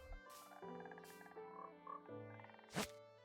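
A frog in Minecraft croaks in a few short calls under light game music, ending in one sharper, louder croak, with no voices.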